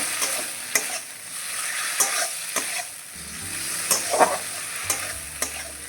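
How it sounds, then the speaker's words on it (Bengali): Chopped tomato and spice masala stir-fry in a pan, a quiet steady sizzle under repeated sharp scrapes and taps of a spatula at an uneven rhythm, close and fairly soft, without speech. "মশলাটা 1 মিনিট একটু নাড়িয়ে চাড়িয়ে ভেজে নেব মশলাটার সঙ্গে।"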